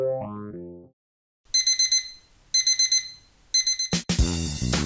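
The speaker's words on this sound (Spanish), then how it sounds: "un objeto exterior emite una alarma que me despierta" Alarm clock going off with three loud bursts of rapid high beeping separated by pauses, following a brief melodic tone and silence, ending in a louder noisy clatter.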